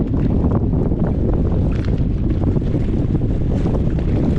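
Strong stormy wind buffets the microphone near the sea beside a boat, a continuous roaring rush with gusts and water noise, loud and close throughout.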